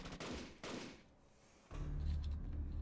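Two sharp gunshot bursts ring out in the Fate/Grand Order game, followed after a short pause by a heavier, sustained low rumble of further firing or impact.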